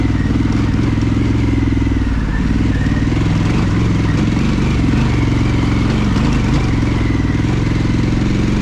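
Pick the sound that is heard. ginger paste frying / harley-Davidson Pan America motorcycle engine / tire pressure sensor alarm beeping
harley-Davidson Pan America motorcycle engine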